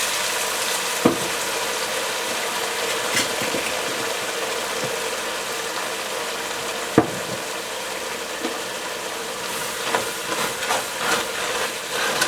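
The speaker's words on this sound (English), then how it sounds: "we're going to deglaze the bottom with a little bit of Chinese cooking wine" Onions, peppers and celery sizzle steadily in a hot pan after a splash of Chinese cooking wine, a continuous hiss and crackle with a few sharp clinks of utensil against pan.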